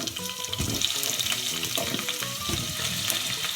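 Wet, freshly washed potatoes drop into a pot of Spanish chorizo stew, setting off a continuous watery sizzle and spatter with scattered clunks of pieces landing, close and fairly loud with no talk.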